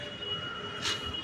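A metro train rolls past near Garia station on a main road, a steady rumbling hum with a brief bright hiss of wheel squeal partway through, fairly close.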